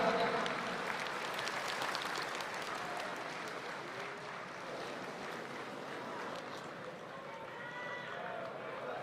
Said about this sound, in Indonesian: Kita beri tepuk tangan yang bergemuruh seluruh hadirin yang ada di tempat ini.